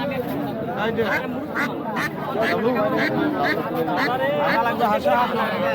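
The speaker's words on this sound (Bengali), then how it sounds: "হাঁস" Ducks quack repeatedly at a busy Eid cattle market in Khansama, close and fairly loud, mixed into a steady crowd hubbub with people talking nearby.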